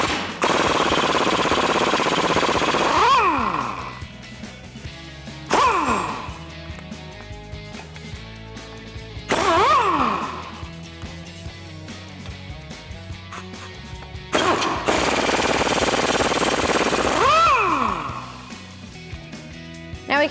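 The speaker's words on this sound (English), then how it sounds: "Now using a 21mm socket, we're gonna remove the 4 nuts on the bottom of the U-bolts." Impact wrench with a 21mm socket spinning off U-bolt nuts under a 2009-2014 Ford F-150, in four loud, separate bursts of a second or two each, with quieter shop noise in between.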